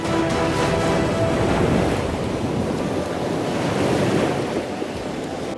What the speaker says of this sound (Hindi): यहाँ तेज हवाओं के साथ बारिश हो रही है।